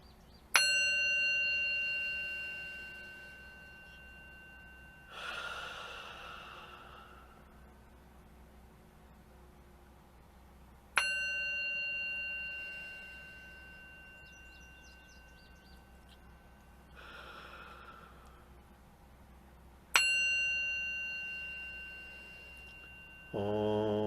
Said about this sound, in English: I'll just open us with a little bell ringing, which I like to do.